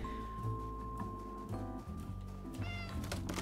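A cat in the video game Mineko's Night Market meows over steady background game music, with a short series of bright chirpy cries close at hand near the end.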